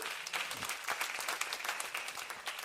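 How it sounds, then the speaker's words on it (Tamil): Steady applause from a church congregation, dense clapping filling the whole stretch at an even level. "ஆண்டவருக்கு ஒரு கரகோஷத்தை நீங்கள் கொடுக்க வேண்டும்"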